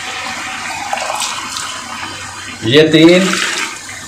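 Beef yakhni broth is poured from a mug into a pot of rice for Bannu-style beef pulao, a short gushing splash after a quiet stretch, with a brief spoken word beforehand.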